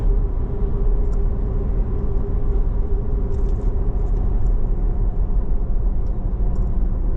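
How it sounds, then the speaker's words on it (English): A car exits a highway and slows to a safe speed; steady, loud low road and engine rumble fills the whole stretch from inside the vehicle, with no talking. "we begin to slow our vehicle down to a safe speed"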